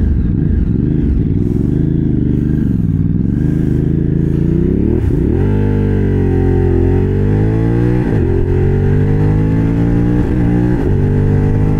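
A Thrike Xcape 1200 motorcycle, rated at 127 horsepower, revs hard while being ridden, its engine pitch climbing and dropping through repeated gear changes. The sound is loud and continuous, close by, and no voices are heard.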